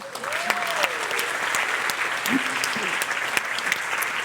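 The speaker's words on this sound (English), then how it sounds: "how about another round of applause for the incredible day that we have all had?" A keynote audience applauds, a steady dense clapping that fills the whole stretch, with a brief voice faintly mixed in.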